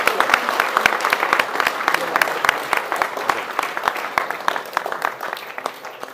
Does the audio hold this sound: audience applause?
yes